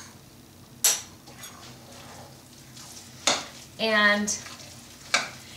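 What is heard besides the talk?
stirring a sweetened rice mixture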